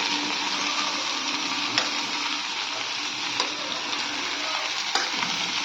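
Moringa leaf chutney stirred in a pan, a steady close sizzle with soft scraping strokes running throughout and a few brief clinks of the spoon against the pan.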